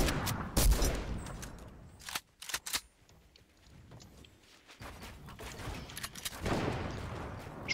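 Video game gunfire in a shooter, scattered bursts of shots near the start and around the middle, with more firing and clatter toward the end over a busy background.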